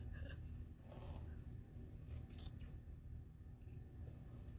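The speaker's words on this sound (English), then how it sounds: "So I'm just trimming a little bit here." Scissors trim fabric for a Christmas stocking, giving a short, faint snipping rustle that peaks once near the middle against a quiet sewing-room background, with no talk.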